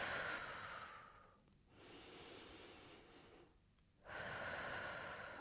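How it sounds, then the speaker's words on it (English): Slow, deep breathing during a chair-based pilates session, with a long airy exhale, a quiet pause, a second breath and then a fresh inhale, faint and close with no talking. "And 1 and 2 deep breaths."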